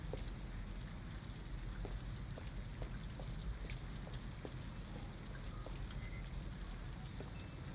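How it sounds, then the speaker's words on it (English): Steady rain falling in the video game Detroit: Become Human outside an abandoned house in Detroit, a dense continuous patter with scattered drop taps, no talking. "At least we'd be out of the rain."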